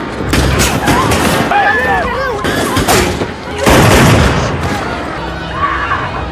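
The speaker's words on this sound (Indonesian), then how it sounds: "Bahkan terjadi baku tembak di antara mereka." Gunfire in a film shootout between an officer and a fugitive, with repeated loud shots and booming reports over a dense, busy soundtrack of music and effects, sustained throughout with no clear speech.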